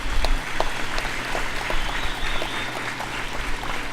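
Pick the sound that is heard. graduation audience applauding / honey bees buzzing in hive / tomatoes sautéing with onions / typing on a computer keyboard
graduation audience applauding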